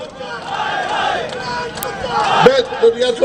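A crowd chanting slogans at a political rally, rising and falling in loud, sustained group shouts, with a voice cutting in near the end.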